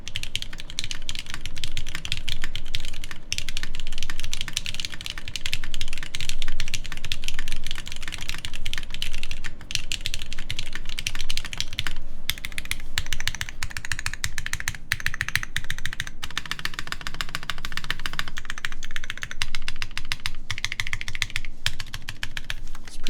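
Fast, continuous typing on a Platinum PT750 mechanical keyboard with a low typing angle, a dense close-up clatter of keystrokes that runs steadily throughout with no voices over it.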